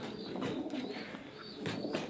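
Soft pigeon cooing and low bird murmurs fill the space, a steady muffled chorus of doves close by with a few brief chirps.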